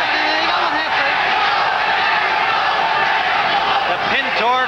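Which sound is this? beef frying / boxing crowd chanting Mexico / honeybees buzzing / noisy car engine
boxing crowd chanting Mexico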